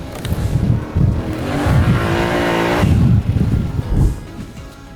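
A Yamaha Ténéré 700 adventure motorcycle ploughing through deep, dry, soft dust, its engine roaring loud and close, surging and pulling hard with gusty rushing noise throughout.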